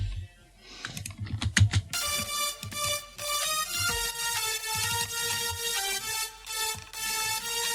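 A bright synth lead melody from an FL Studio EDM track plays sustained, harmonically rich notes over a steady electronic backing after a few short percussive hits, loud and clear with no talking.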